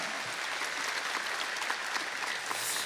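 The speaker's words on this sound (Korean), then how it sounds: "우리 박수로 감사드립니다." A church congregation applauds volunteers, including a traffic service team and pool helpers, at the closing service of a summer revival gathering; steady, dense clapping fills the room at a moderate level throughout, with no voices over it.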